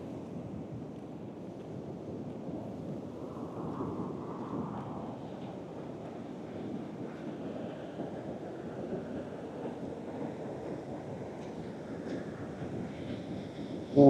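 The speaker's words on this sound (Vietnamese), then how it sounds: "Sóng biển quá dữ dội." Violent sea waves pounding Thuận An beach near Huế after Typhoon Trà Mi (storm No. 6), a steady, loud broadband roar of surf mixed with gusting wind buffeting the microphone, continuous throughout with no talking.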